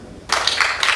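A burst of audience clapping starts abruptly after a brief quiet moment and continues steadily, moderately loud, with no talking.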